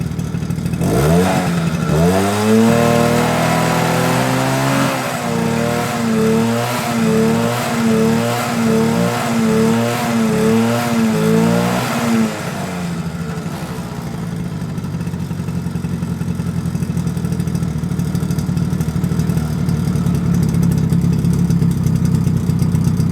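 A Suzuki LT50 quad's small engine revs up hard and holds a buzzing, pulsing high rev for several seconds before dropping back to a steady idle, loud and close, with no talk.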